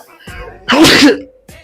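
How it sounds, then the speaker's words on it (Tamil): A single sharp sneeze bursts out close by, preceded by a brief intake of breath. "அதெல்லாம் துப்புல இங்கதான் தும்முறேன்."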